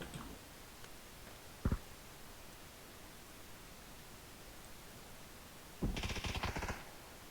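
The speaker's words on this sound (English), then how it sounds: "Someone sniped from this direction." A sniper shot rings out in PUBG as a single sharp crack, followed a few seconds later by a longer, louder rattling burst of gunfire. The background is a faint, steady hiss, with no talking.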